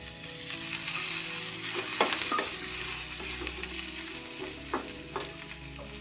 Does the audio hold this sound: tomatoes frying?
yes